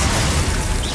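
The Glacius ice spell in Hogwarts Legacy lands as a short, loud crackling impact with a brittle, shattering edge and a thick low rumble, over in about a second.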